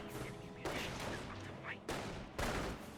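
Gunfire in the Company of Heroes 1 real-time strategy game, with several loud bursts of shots and explosive cracks in quick succession over a steady battle din, alongside a faint voice.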